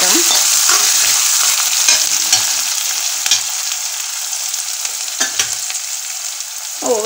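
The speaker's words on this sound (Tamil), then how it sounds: "வெங்காயம் நல்லா இந்த எண்ணெயில் வதங்கட்டும்." Onions sizzle loudly in hot oil, a close, continuous frying hiss broken by occasional sharp scrapes and taps of a spoon against the pan, with no voices.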